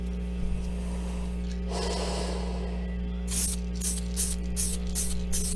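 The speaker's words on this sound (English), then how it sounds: "start the spray off the figure and carry the stream across it" An airbrush or spray gun hisses in short bursts as the stream is swept across a miniature figure, with a broad steady spray in the middle followed by several rapid, sharp pulses, close and fairly loud.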